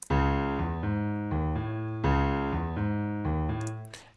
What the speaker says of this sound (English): the piano sounds like this without the EQ.